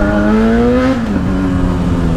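Suzuki SRAD 750 motorcycle engine revving up in a São Paulo tunnel, a loud, steady high-pitched engine note that climbs, dips, then holds close by.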